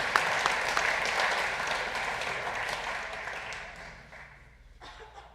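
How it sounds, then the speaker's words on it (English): Audience applause at an FFA banquet, a dense wash of many hands clapping that is loud at first and then gradually fades out, with a few murmuring voices mixed in. "Let's give them one more round of applause"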